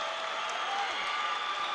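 Crowd applause and cheering fill a high school boys basketball arena during the Class 1A state championship game, a steady dense roar with no letup, as a player comes off the court.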